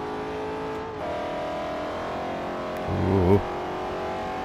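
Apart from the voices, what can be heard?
race cars racing in video game Forza Motorsport 4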